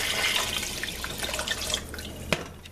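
Water pours into a cooking pot as two quarts are added for a pot of Southern lady peas, a soft splashing flow with a sharper splash near the end, fairly quiet.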